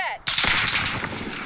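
Gunfire in a Call of Duty multiplayer match, one sharp nearby shot after a brief tonal sound, followed by a loud, noisy burst that decays over about a second.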